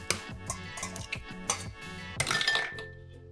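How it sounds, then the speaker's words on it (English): Eggs cracked against a bowl for a bitter melon and egg stir-fry, several sharp clinks and taps in a short run, close and clear, with a glassy ring toward the end. "crack the six eggs"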